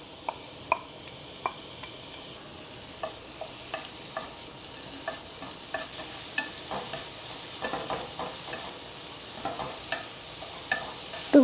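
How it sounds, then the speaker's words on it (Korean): Zucchini stir-fries in a hot pan with little oil, a steady sizzle with repeated sharp clicks and scrapes of stirring throughout, close and fairly quiet, no voices. "호박을 살짝 볶을게요"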